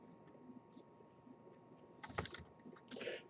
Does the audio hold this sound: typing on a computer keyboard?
yes